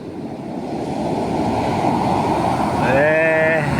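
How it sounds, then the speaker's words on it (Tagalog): Large sea waves surge up toward seaside houses, a loud continuous roar of surf and wind close to the microphone, with a voice briefly rising near the end. "oh, yun, ang laki ng alo, no?"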